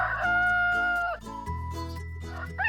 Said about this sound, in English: the rooster would crow from the rooftop to wake the whole